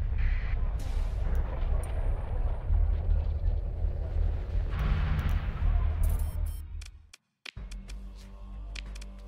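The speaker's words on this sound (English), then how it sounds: "Orbital bombardment's done." Orbital bombardment explosions in the space game Starsector roll on as dense, continuous low rumbling with scattered sharp impacts, then cut out abruptly into a brief silence before the booming resumes.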